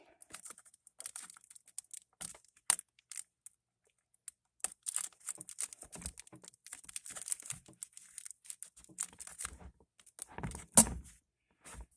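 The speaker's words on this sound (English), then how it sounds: "Then we'll come here and put a piece of tape and snug it way down." Tape being pulled and pressed onto a mylar-insulated feral cat shelter, with close crinkling, tearing and tapping sounds in irregular bursts separated by quiet gaps, no talking.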